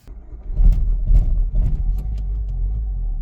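A Renault Mégane engine runs roughly, close by, a steady low rumble that judders unevenly and surges in a few loud pulses before settling into a rough idle.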